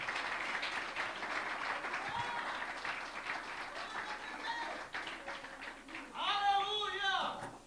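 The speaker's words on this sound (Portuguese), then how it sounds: "Quantos podem aplaudir o Cristo" A church congregation applauds during a Portuguese-language worship service, a steady wash of clapping with voices mixed in and a burst of livelier sound near the end.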